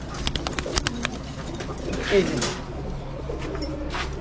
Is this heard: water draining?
no